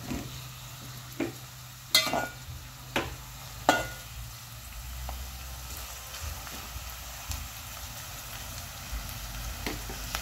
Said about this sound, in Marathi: सोनेरी कलर येईपर्यंत बारीकवाला कांदा जो कटिंग केलाय ना तो छान पैकी परतून घेऊया आपण